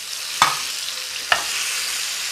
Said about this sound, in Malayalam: പഴം ഇങ്ങനെ ഫ്രൈ ആകുന്ന അനുസരിച്ച് ഇങ്ങനെ ഇങ്ങനെ നമ്മളൊന്ന് മുറിച്ച് മുറിച്ച് കൊടുക്കാം